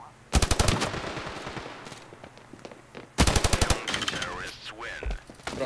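Two loud bursts of rapid machine-gun fire from Standoff 2 on the Sandstone map, close and punchy, with shouting voices and game effects between them.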